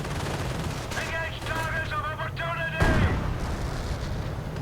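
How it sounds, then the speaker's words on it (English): Light machine gun bursts in a real-time strategy battle as Rangers advance on the flank, rapid crackling volleys with a heavier boom near the three-second mark, mixed with dense battlefield din and a caster's voice running over the top. "the first burst of LMG fire actually utterly missed the Rangers"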